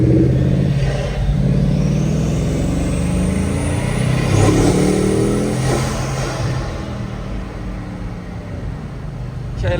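A Bugatti Mistral's engine pulls hard under acceleration, a loud, steady rising roar heard from inside the cabin with a whooshing surge midway through the run.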